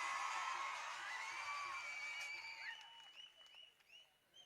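An audience at a tribal cultural festival in a village claps, with whoops and shouts mixed in, the applause fading to scattered cheers and yells, faint and distant.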